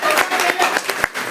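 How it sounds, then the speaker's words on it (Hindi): Audience clapping during a motivational talk in Hindi, a loose burst of sharp, uneven claps lasting just over a second, fairly close and loud, with scattered hands striking in an irregular rhythm. "ताली बजा दीजिए।"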